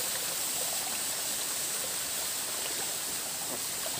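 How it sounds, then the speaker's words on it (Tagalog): A waterfall on a mountain trail roars as a steady, dense broadband rush of falling water, continuous and fairly close for the whole stretch, with no voices over it. "Yan, ang falls na yan."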